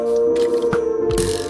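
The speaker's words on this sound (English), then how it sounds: "Oh, I can hear a skeleton" Minecraft Sevtech Ages skeleton mob noises, short rattling clacks over a steady in-game hum, fairly close and alone without talk.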